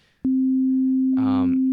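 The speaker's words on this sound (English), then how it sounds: "all that I'm playing is a sine wave" A pure sine tone from Ableton's Operator synth, played an octave up, starts abruptly and holds steady and loud, with a brief spoken voice layered over it near the end.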